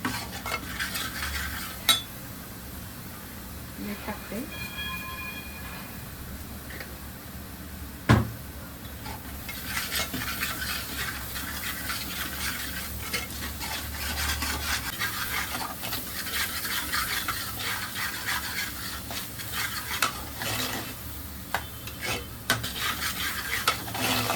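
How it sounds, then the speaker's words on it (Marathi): Masala frying in oil in a pan for a Konkan crab curry, a low continuous sizzle with occasional spoon scrapes and clinks against the pan, quiet and close, with no voices. "तेल सुटोपर्यंत मसाला चांगला तळून घेतो"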